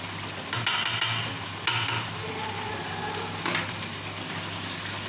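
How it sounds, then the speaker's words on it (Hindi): Spice masala with garam masala and salt sizzles in a pan for a mutton paya dish, a steady frying hiss broken by a few sharp stirring scrapes early on, with no voices. "मसाले को जो है हम भून लेंगे।"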